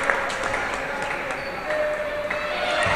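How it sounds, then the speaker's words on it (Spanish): Arena crowd at an Argentine league basketball game, Echagüe versus Sportivo América, applauding a player in a steady, moderately loud wash of clapping with scattered shouts and an announcer talking over it. "Aplausos todos para Eric Frederick de gran presentación esta noche"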